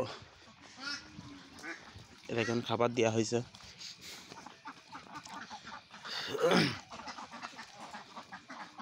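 Ducks on a duck farm quack in a lively, overlapping chorus throughout, close and moderately loud, while someone speaks over them at times.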